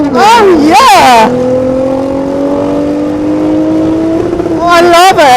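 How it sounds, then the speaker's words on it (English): A straight-six Lexus car engine revs loud and close, holding a steady rising drone for several seconds as it passes, with excited talking before and after. "Oh, it's one of those straight six Lexuses."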